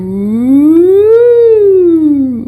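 A voice imitates an ambulance siren with a single long, slow wail that climbs, peaks in the middle, then sinks back down, loud and close.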